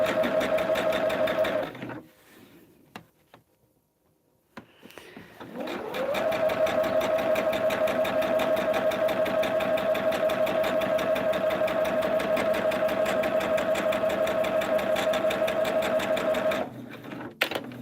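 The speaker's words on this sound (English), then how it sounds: "And then you're just sewing a line that's already there." A sewing machine stitching a table topper runs in a steady, close, rhythmic whir, pauses briefly near the start, then resumes for a long continuous run before stopping at the end.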